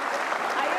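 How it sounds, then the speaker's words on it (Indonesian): Studio audience at an Indonesian talk show claps steadily, a dense, even wash of applause lasting under a second, with no break in the sound. "Kasih tepuk tangan dong Nita"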